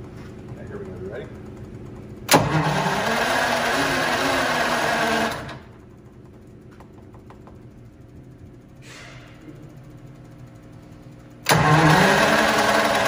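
Detroit Diesel 6-71 engine on its first start: two loud bursts of cranking and rough running, with a quieter mechanical lull and a brief voice between them.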